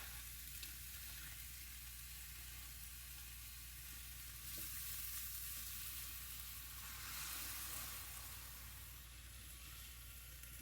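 Turkey sausage sizzles steadily in a hot pan on a lowered burner, a constant close frying hiss with a couple of slightly louder swells.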